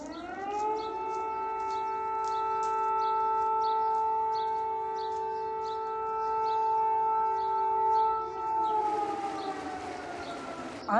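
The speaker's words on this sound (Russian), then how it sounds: "И чтобы заставить людей эвакуироваться, включают сирену." A civil defense evacuation siren during floods in Russia wails with a long steady tone, loud and sustained, then its pitch slides downward near the end.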